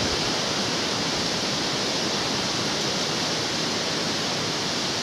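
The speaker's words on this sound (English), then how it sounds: "As you can hear though, possibly much windier than yesterday." Strong wind gusts across a hillside walk in the Church Stretton area, a steady loud broadband roar that holds throughout without a break, with no talking.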